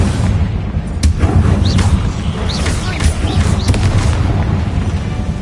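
A Confringo blasting spell explodes in a wizard video game, giving loud, dense booming bursts over a constant rumbling low-end backdrop of game action, with several sharp hits across the span.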